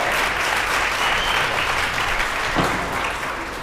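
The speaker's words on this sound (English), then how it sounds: "clap the hell out of that" A dense, even roar of applause carries on throughout, with many hands clapping loudly and steadily and no pauses.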